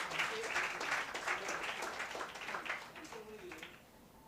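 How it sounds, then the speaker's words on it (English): An audience applauds a guest at a career guidance program, a steady wash of clapping that tapers off, with faint voices underneath. "A round of applause for Mr. Bharat Dabholkar."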